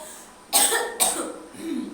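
Two sharp coughs in quick succession, close and fairly loud, followed by a brief throaty sound.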